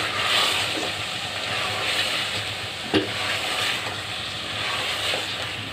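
Egg kofta masala fries in a pan, a steady, moderately loud sizzle with soft stirring scrapes and one brief knock partway through, no voices over it.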